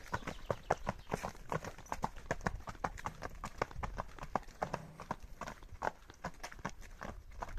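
Steady clip-clop of hooves from a pair of Belgian draft mares walking together, close and continuous, with only occasional faint voices in the background.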